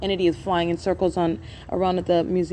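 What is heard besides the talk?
No everyday noise stands out behind the speech.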